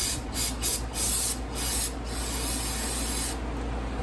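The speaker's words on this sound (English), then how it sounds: "Spray some brake clean in there" Aerosol brake cleaner hisses in several short bursts, then one long continuous spray, close and loud over a low background hum, cleaning a 2.4 liter GM EcoTec engine part.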